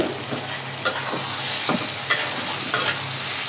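Beef liver and lungs frying in spiced oil, a continuous close sizzle with occasional stirring scrapes and spatula knocks, no talk.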